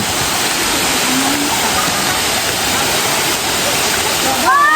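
Kanumantad Falls in Bohol pours with a loud, steady, broadband roar of falling water that fills the whole stretch, while voices come and go faintly underneath.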